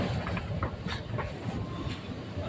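A Dubai Metro train at Ibn Battuta station gives a steady, moderately quiet rumble with faint rail clatter and hiss, heard alone without talk.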